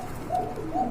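A pair of Black Danish pigeons of Pakistani bloodline coos softly, with low murmuring calls swelling twice over a faint background.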